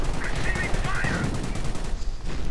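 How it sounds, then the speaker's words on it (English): Heavy rapid gunfire and dense battle noise in a World War II strategy video game, loud and continuous, with a mortar joining in and faint voices mixed into the din. "And now the mortar is joining in as well."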